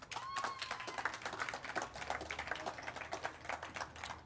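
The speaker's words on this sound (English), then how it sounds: "Let's get a round of applause" Audience applause for nominees at a community awards event, steady scattered clapping from a modest crowd, fairly faint and distant with dense irregular hand claps.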